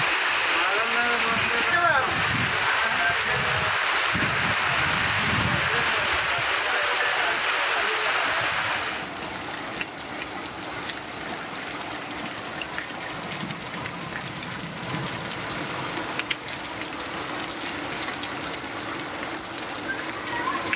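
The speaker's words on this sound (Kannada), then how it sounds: "ಧಾರಾಕಾರವಾಗಿ ಮಳೆಯಾಗಿದೆ" Heavy rain pours down in a steady, dense hiss for about nine seconds, with voices talking over it, before the sound shifts to a quieter, duller background murmur.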